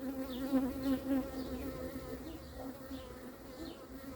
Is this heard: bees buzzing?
yes